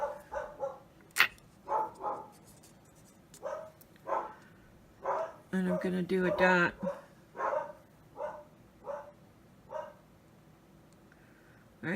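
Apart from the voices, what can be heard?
dogs barking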